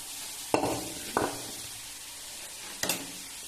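Cowpea leaves cook on a hot iron tava with a low, soft sizzle, broken by three sharp clatters as greens are dropped or stirred, no voices.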